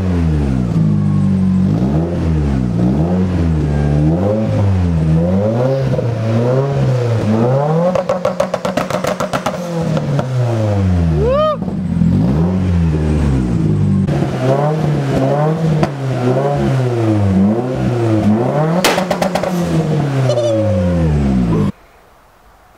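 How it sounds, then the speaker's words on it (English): A Nissan S14 car engine revs hard over and over, loud and close, its sharp rises and falls repeating rhythmically with crackling pops between the pulls before it cuts off near the end. "Rev it up a couple times."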